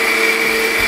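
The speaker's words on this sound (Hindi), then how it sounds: "ये एक जार है मिक्सी का, इसके अंदर शामिल कर देंगे सब चीज़ें इस तरीके से" A mixer grinder jar whirs loudly and steadily, blending a spice paste for chicken biryani in one brief continuous burst with no voices.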